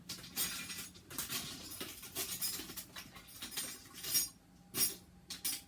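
Metal measuring spoons clink in a home kitchen while BBQ sauce is made: scattered light metallic taps and rattles, several sharp clinks spread over a few seconds at close range, with quiet gaps between them.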